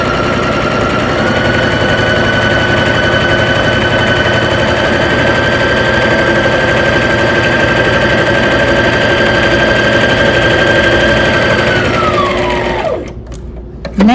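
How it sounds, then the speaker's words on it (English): A sewing machine runs loud and steady for about twelve seconds, stitching straight across a pleated four-ply fabric mask, then winds down and stops. "I'm going to sew all the way across."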